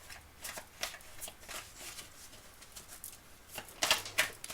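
Soft, papery riffles and flicks of cards being shuffled and drawn during a card reading, close and quiet, in irregular short bursts with a couple of louder snaps near the end.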